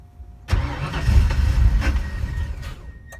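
A 1964 Mercury fitted with Holley Sniper EFI cranks and catches on a cold start, then settles into a loud, steady, rumbling idle close by.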